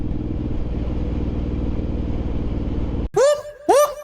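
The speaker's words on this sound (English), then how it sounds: "That's the sound of the police." A Suzuki M109R motorcycle's engine rumbles steadily and then cuts off, followed by two sharp rising electronic chirps from a passing undercover highway patrol car, loud and close.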